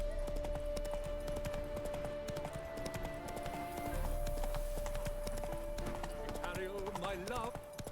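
Roach the horse galloping in The Witcher 3: Wild Hunt, steady rapid hoofbeats clip-clopping close by over soft game music, ending with a brief neigh, with a voice speaking over part of it.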